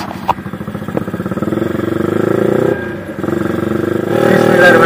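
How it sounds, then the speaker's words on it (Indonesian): Roughly twenty motorcycles rev and idle together in an outdoor gathering, a dense, loud, throbbing engine rumble that swells and dips before surging again near the end, with voices faintly mixed in. "Ada lumayan banyak ini, sekitar 20-an motor ya."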